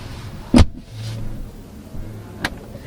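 Rear door of a 2022 BMW 520i Luxury Line sedan shutting with soft-close: a sharp latch click, a short low motor hum pulling the door in, then another faint click near the end.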